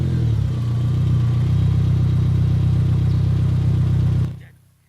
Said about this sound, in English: you're greeted to a beautiful engine start push button to activate the beautiful startup